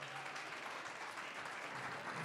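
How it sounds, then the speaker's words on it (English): A crowd at a student union election results show claps in steady, dense applause that stays even throughout, heard from a distance and fairly soft. "please give everyone a massive round of applause"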